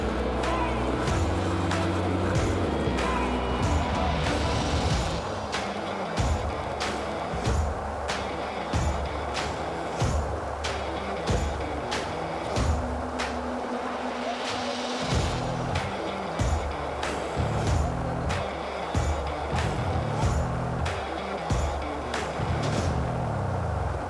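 A 4th-generation Toyota 4Runner engine revs and accelerates as it climbs a steep off-road trail near Salsbury Lake, Vancouver, loud and sustained with tire and body clatter, with some speech mixed in.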